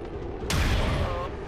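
A loud, sudden gunshot blast in XCOM 2: War of the Chosen, followed by a booming, rumbling tail over steady game background noise.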